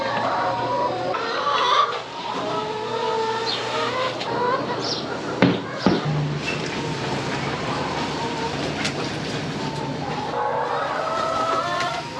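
Chickens cluck and squawk almost continuously while pecking at lettuce, loud and close, with overlapping calls and a brief rustle or knock partway through.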